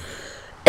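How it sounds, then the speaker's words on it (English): One abrupt, harsh cough from a sick person bursts out at the very end after near silence. "I apologize for my coughing."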